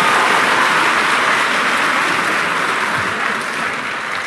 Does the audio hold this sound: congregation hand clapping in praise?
yes